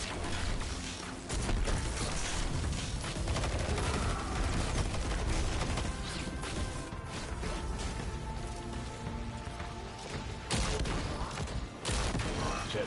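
Sustained LMG machine gun fire in Destiny 2, a dense continuous rattle of rapid shots with mechanical clatter, steady and fairly close, under a busy mix of game effects.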